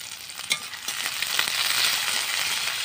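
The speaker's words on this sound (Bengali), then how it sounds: "এবার আলু আর সিম একসঙ্গে ভেজে নিব।" Potato and flat beans fry together in a pan, giving a steady bright sizzle with a few sharp spatters and stirring scrapes, close by and with no voices.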